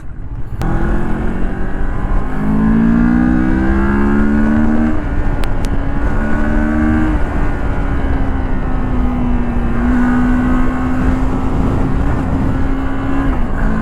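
Moto Morini X-Cape 650X motorcycle engine under riding load, a continuous loud drone whose pitch climbs and shifts as it runs through revs, with steady wind and road noise and no voices.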